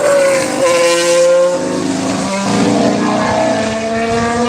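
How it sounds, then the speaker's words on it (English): Mercedes hybrid Formula One car at a Barcelona test, engine note loud and continuous with rising and falling harmonic whine as it passes, rough and rattly, no voices. "Sounds like a bag of nails there, the Mercedes."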